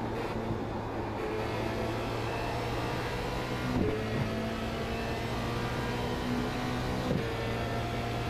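A Formula Renault 2.0 open-wheel race car at Watkins Glen in iRacing holds a steady engine drone at high revs, with brief pitch dips at gear changes.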